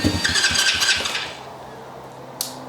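A 2022 Thumpstar 125 road-legal pit bike engine chugs with rough, uneven pulses, then fades to a low idle, ending with a brief sharp click.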